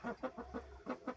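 A Japanese Shamo rooster gives six short, evenly spaced clucks, close and clear with no talk over them.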